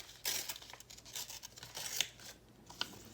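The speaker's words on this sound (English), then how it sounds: "Just tear that just a little there." Paper being torn by hand for a steampunk junk journal cover collage, close, crisp ripping and rustling in short bursts, fairly quiet, with no talking.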